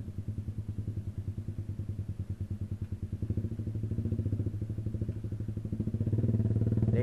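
A Yamaha YZF-R15 fitted with a custom Purbalingga racing exhaust idles in traffic, a close, low rapid-firing burble that pulses steadily, then swells slightly louder and denser near the end.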